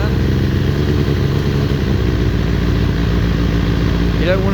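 A 2000 Kawasaki ZX6R idles steadily during carburetor balancing, its loud, close, even engine rumble continuing throughout, with a brief higher tone near the end.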